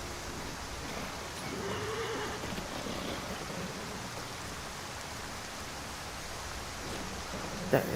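A horse in Skyrim VR gives a soft, brief neigh that is barely audible under a steady hiss of rain-like ambient noise, with a sharper click near the end.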